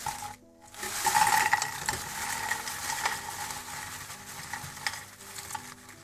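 Freshly fried french fries being stirred and tossed, a dry rustling scrape with light residual sizzle running steadily for several seconds, close and moderately loud, no voices.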